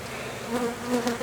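A brief, close hum of buzzing bees hanging in clusters in a hive, steady with small swells in loudness.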